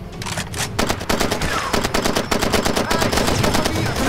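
Rapid automatic gunfire from the video game Far Cry 2, dense bursts of shots rattling continuously at close range with a loud, steady intensity throughout.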